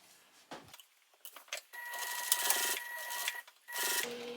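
A sewing machine stitches a zippered pouch seam, sewn from the side away from the bulky zipper tape: a few short bursts, then a steady whirring run of about two seconds, a pause, and one more brief run, close and alone.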